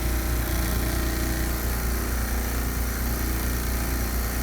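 A refrigeration lab unit's compressor runs with a constant, loud mechanical drone and a low hum, steady and unchanging throughout.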